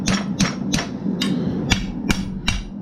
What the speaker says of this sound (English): I'm coming over here to the horn of the anvil.